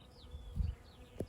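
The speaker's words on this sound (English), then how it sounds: "Don't know whether you can see the bee there." A honeybee from nearby hives buzzes faintly around a flowering crop in a field, with a brief low hum swelling midway and another short buzz at the end, heard outdoors against soft ambient air.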